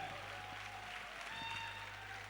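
An audience claps to welcome Meenakshi Rana onto the stage at a leadership event, giving a faint, continuous patter of applause under a steady low hum, with a few thin tonal sounds drifting through.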